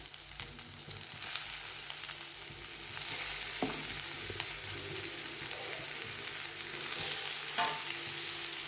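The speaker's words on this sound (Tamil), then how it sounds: "இதில் நான் சின்னதாக கட் பண்ணி வச்சுருக்க வெங்காயத்தையும் இதில் போட்டுக்கிடுவோம்." Chopped onion sizzles in hot oil in a pan for fish cutlets, a soft steady frying hiss with occasional stirring scrapes, close and fairly quiet with no talking.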